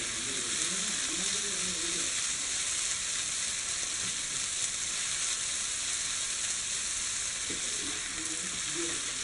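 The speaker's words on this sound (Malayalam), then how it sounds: "ഇനി നമുക്കിതിനെ നന്നായിട്ടൊന്ന് ഫ്രൈ ചെയ്തെടുക്കാം" Cauliflower and capsicum pieces frying in a pan while being stirred, a continuous dense sizzle close up with occasional scraping stirs, steady and loud throughout with no talking.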